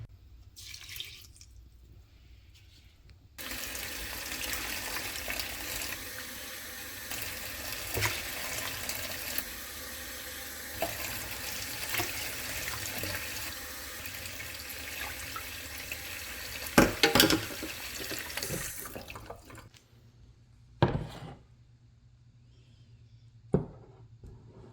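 Tap water running into a pot for cooking rice, a steady splashing pour that starts after a few quiet seconds and lasts about sixteen seconds, then stops, leaving a few brief clinks and drips.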